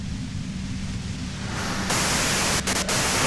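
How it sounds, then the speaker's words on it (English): White-noise static hisses in the video game Disco Elysium. The broad, steady hiss swells noticeably louder partway through, then shows a couple of brief dropouts near the end. "you can do it through the white noise"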